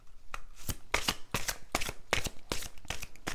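Playing cards are shuffled before one is drawn, with a run of quick, crisp riffling bursts in an uneven rhythm, close and fairly clear.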